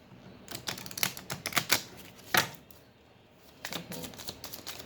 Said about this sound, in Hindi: I shuffle it again.